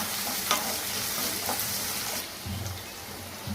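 Curry leaves stir and fry in hot oil in a pan for a fish curry, a steady close sizzle with scraping spoon strokes and a brief crackle near the end, no talking.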